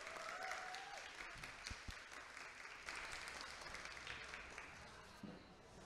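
Audience applause at a comics talk event, a dense steady wash of clapping from a crowd lasting several seconds, with faint voices mixed in underneath.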